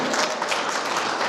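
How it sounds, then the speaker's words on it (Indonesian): A church congregation claps during a Christmas sermon, producing a short burst of dense, continuous applause. "tepuk tangan dulu Tuhan"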